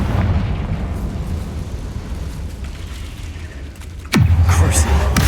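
A Confringo spell blast in the Hogwarts Legacy video game erupts as a sudden loud boom, its roar sweeping down from a bright crack into a rumbling tail over a continuous game soundscape.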